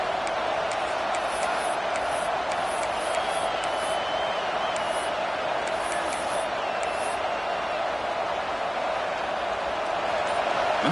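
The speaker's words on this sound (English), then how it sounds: "And the crowd coming to life here" A football stadium crowd roars steadily as the defense is pushed back deep in its own red zone, a dense continuous wall of cheering with sharp whistles and whoops rising over it throughout.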